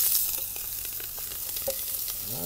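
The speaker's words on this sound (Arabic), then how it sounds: "هنا حطيت سمن شوي، بكشن البصل الحين." Onions fry in a little ghee with a soft, close crackling sizzle, dotted with small pops and the light scrape of a spoon stirring the pan.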